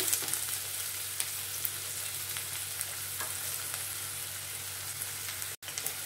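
Sliced onion and pumpkin pieces roasting in oil for a Kerala kadala curry, giving a continuous soft hiss of frying with faint occasional clicks, steady and moderately quiet, no talking.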